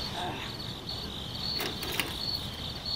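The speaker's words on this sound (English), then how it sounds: "will you damn cricket shut up?" A cricket chirps indoors at night, sending a steady thin high trill that pulses on and off across the stretch. It is fairly faint against a dull background hiss, with a couple of small knocks and no talking.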